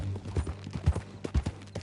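Horse hooves clip-clop at an easy walking pace in Red Dead Redemption II, a run of close, fairly loud thuds over a low ambient drone, with no voices heard.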